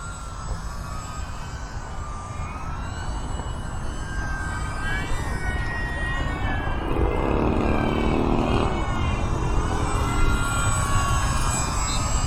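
An E-flite UMX Timber, a small electric RC plane, flies loops overhead, its motor whining steadily with rising and falling pitch as it climbs and dives, heard continuously at moderate distance.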